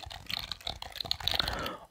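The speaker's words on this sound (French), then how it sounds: "C'est pas le clavier le plus stylé, qui fait du bruit quand tu cliques" An inexpensive, budget computer keyboard being typed on up close, a quick run of crisp plastic key clicks in an irregular rhythm, soft and intimate with no talk.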